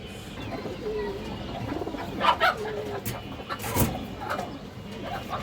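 Pakistani Rampuri pigeons cooing close by in a pigeon market, several soft throaty coos and wing flutters, with scattered background noise.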